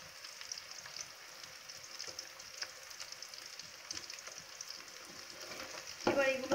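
Onion and green chili frying with cauliflower in a pan give a steady, soft sizzle with light stirring scrapes, with a louder clatter of stirring near the end.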